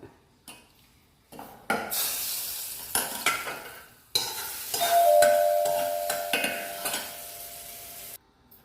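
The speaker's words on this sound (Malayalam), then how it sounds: "ഇപ്പോൾ കടുക് പൊട്ടിച്ചിട്ട് ഞാൻ ഇതിലേക്ക് ഒഴിച്ചു കൊടുക്കുകയാണ് വറുത്ത്" Hot mustard-seed tempering with curry leaves poured into mango pickle, a close sharp burst of sizzling and crackling that swells, fades and flares again with scraping stirs and metal clinks, no voices.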